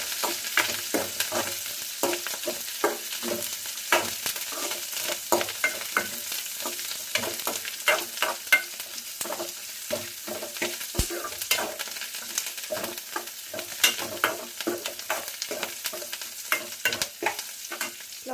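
Vegetables roast and fry in oil while a spoon stirs them. A steady sizzle runs throughout, broken by frequent sharp scraping and clacking strokes against the pan, close and continuous.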